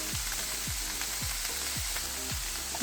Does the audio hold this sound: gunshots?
no